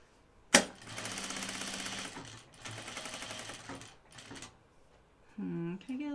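A sewing machine runs in short bursts at home while a flight suit is sewn, a sharp clack followed by a mechanical whir that stops and starts, with a voice at the end.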